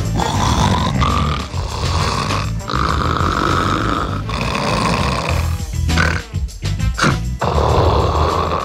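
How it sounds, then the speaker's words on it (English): Loud, raspy snoring close by, long rumbling breaths repeating in uneven cycles with brief snorting gulps and pauses toward the end. "He snores as loud as a train"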